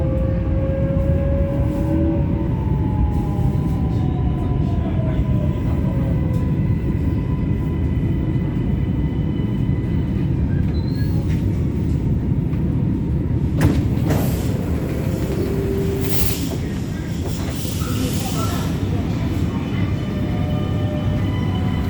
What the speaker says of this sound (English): You can hear the motor is very similar to the freaking Sydney Metro sounds